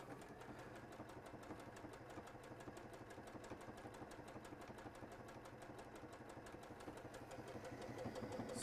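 A home sewing machine stitching steadily, a fast even mechanical whirr with rapid needle ticks, faint and close, running alone and building slightly toward the end.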